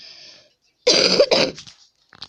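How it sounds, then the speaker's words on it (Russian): Two quick harsh coughs close to the microphone, following a faint tone, then brief quiet clicks. "Я иногда могу кашлять."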